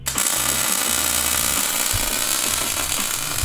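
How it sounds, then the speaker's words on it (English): Welding up snow track frames, a steady buzzing and crackling arc with a low rhythmic pulsing underneath, close and loud throughout without pauses. "I'm still welding up these track frames"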